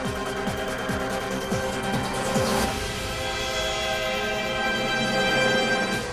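A dense, loud film score cue for Blade: Trinity blends processed, distorted guitars with orchestra in a continuous churning wall of sound, with sweeping pitch swells early on and no let-up throughout.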